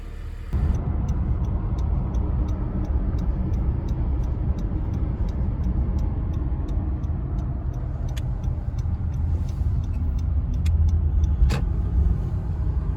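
A Honda car engine cranks and catches, then runs at a steady, loud idle with a constant low rumble and a faint regular ticking on top, heard close up with no talking.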